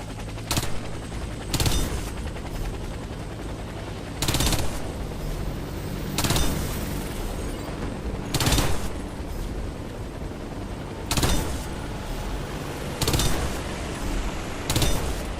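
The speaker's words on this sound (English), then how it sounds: "As an engineer, your primary weapon is a submachine gun." Submachine gun fire in the Warface shooter comes as loud, close automatic bursts, about eight short volleys spaced at irregular intervals over a steady background hum.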